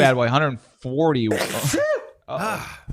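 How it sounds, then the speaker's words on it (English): A person sneezes sharply between bursts of close-up speech, with more talking right after. "This sneeze."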